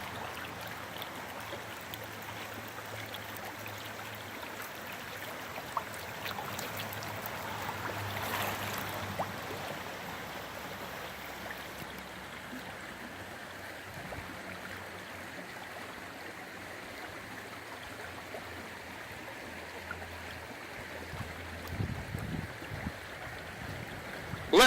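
Shallow, clear Luzon Creek flows during an October salmon run, giving a steady, even rush of water throughout with no talking.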